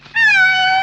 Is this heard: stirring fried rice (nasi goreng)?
no